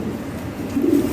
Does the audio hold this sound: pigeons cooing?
yes